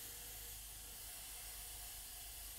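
Steady, continuous hiss of an airbrush spraying paint onto a skull design, close and even, with no talking.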